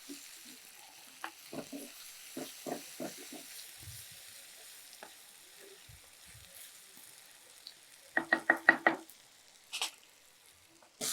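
Ingredients for Kolli Hills mudavattu kizhangu root soup fry quietly in a pan, soft scattered sizzles and stirring scrapes, then a brisk burst of four or five utensil clatters near the end.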